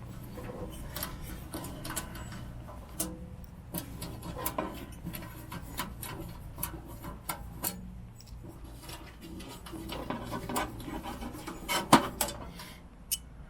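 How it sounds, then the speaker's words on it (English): Thumb screws are unscrewed on a Pomoly T1 mini titanium stove, giving a close, steady run of small metallic ticks, clicks and rubbing handling noises throughout, with no voice. "These thumb screws come off, look."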